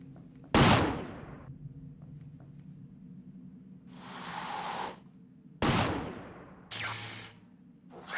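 Video game gunfire from Rail Theory: a few loud, heavy blasts spaced seconds apart, each with a long decaying tail, alternating with bursts of sustained hissing noise against a low steady background, no talking.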